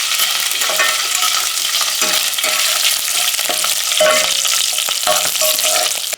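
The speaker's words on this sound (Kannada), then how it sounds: "ಕೆಂಪಗಾದ್ಮೇಲೆ 1-2 ಹಸಿಮೆಣಸಿನ್ಕಾಯಿ ಈ ರೀತಿ ಸೀಳ್ಬಿಟ್ಟು ಹಾಕೋಬೇಕು. ಸ್ವಲ್ಪ ಕರಿಬೇವಿನ ಸೊಪ್ಪು ಒಂದ್ಸಲ ಮಿಕ್ಸ್ ಮಾಡ್ಕೊಳ್ಳೋಣ." Slit green chillies and curry leaves sizzle loudly in hot oil in a pan while being stirred, a dense steady crackle broken by intermittent scraping strokes of the spoon.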